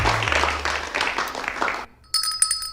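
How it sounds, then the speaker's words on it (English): Canned applause plays on a Brooklyn radio show, a dense clapping burst that stops abruptly, followed by a brief silence and then bright electronic ringing tones. "The applause ran out of juice?"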